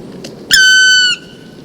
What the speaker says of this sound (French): Le registre vocal du pic noir est varié, mais les randonneurs de montagne apprennent vite à le reconnaître.